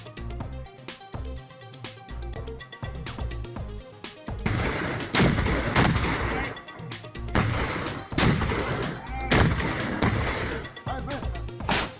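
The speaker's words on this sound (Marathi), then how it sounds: "काश्मीरमधल्या नियंत्रण रेषेवर पाकिस्तानी लष्कराकडून गोळीबार।" Repeated loud gunshot-like bangs in irregular bursts over a background of music or drone, growing denser and harsher in the second half; a news report of Pakistani army gunfire along the Line of Control in Kashmir.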